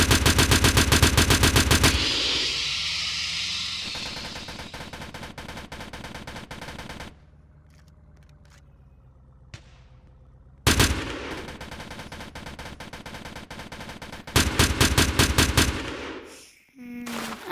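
Turret gunfire in the Polybattle video game, rapid loud machine-gun bursts close up, stopping for a few quieter seconds, then firing again in hard, dense volleys.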